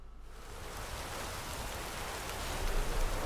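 Steady rain in the video game The Witcher 3 Wild Hunt, a soft, even hiss of falling water that grows slightly louder toward the end, with no voices.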